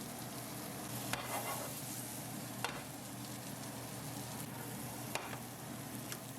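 Foraged milkweed pods sautéing in a pan, a soft, steady sizzle with a few sharp clicks of a utensil, quiet and close, no talking.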